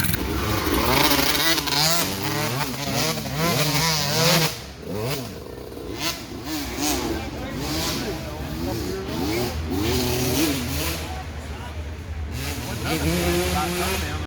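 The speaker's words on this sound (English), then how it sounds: "There's Harley on his mini bike." A mini bike engine buzzes and revs repeatedly nearby in a field, with voices talking over the steady engine drone.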